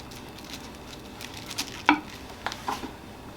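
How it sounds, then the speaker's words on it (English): Cabbage cooking down in a pan with beef gives a soft, steady sizzle with a few brief clicks and pops, fairly quiet and with no talking. "So you just cook the cabbage down until it's the doneness that you like."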